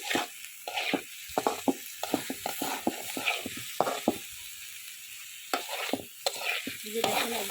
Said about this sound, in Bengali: চিংড়ি মাছগুলো একটু ভালো করে কষাই নিই।